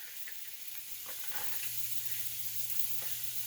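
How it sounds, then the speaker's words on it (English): A handful of onions tossed into a hot pan where food is already browning, giving a faint, even sizzle with a few soft clinks, heard up close without any speech. "So I'm going to throw in some onions."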